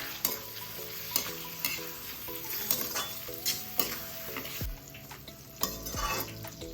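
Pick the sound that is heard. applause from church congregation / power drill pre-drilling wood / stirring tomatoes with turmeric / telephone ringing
stirring tomatoes with turmeric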